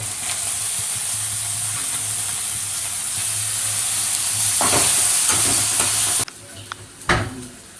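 Onion and tomato frying in a pan, a loud, steady bright sizzle with hissing steam that swells as the tomato goes in, then cuts off sharply to quieter clatter near the end.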